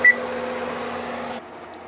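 An oven control panel set to broil gives a short beep, then a steady electronic hum that runs for over a second and cuts off abruptly.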